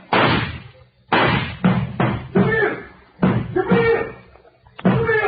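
A door is knocked on in a 1937 murder mystery radio drama, loud heavy pounding in several separate bursts with short pauses between them and voices faintly mixed in.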